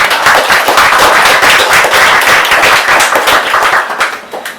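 Loud, dense applause from an open-mic audience, steady rapid clapping that fills the room and tapers off near the end.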